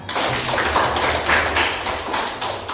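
A group claps hands on command, producing a quick, rhythmic run of close, sharp claps in steady succession.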